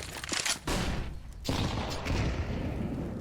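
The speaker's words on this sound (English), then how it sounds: "you hear a rifle tagging up Simple" Bursts of rifle gunfire in Counter-Strike: Global Offensive on the Inferno map during a pro match, sharp rapid cracks loud and close, with a brief gap before firing resumes.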